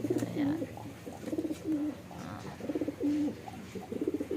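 Pigeons coo in a loft where breeding birds are kept, several soft rolling coos repeating close by in short bursts with brief pauses between them.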